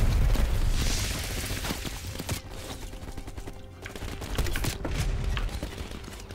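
Gunfire in the video game Call of Duty: Black Ops Cold War, in a Vietnam-era battle scene, with bursts of rapid shots and sharp cracks over a dense, rumbling battle din.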